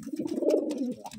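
A Giribaz pigeon of the Murshidabad line gives a short, low, throaty coo up close, one rounded burbling phrase rising and then trailing off.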